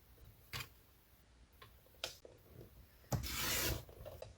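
A paper trimmer blade slides through a sheet of paper to cut it in half, with faint taps and rubs leading up to one short, close rasping cut.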